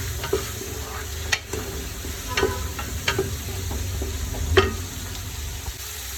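Chicken biryani ingredients stirred and frying in a pan, with a steady low sizzle and the occasional clack of a spoon scraping the pan, close up and uninterrupted with no voices.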